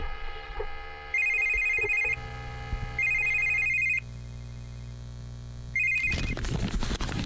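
A telephone rings on a radio call-in show, three bursts of a bright electronic trill separated by pauses, loud and close, before the line is picked up.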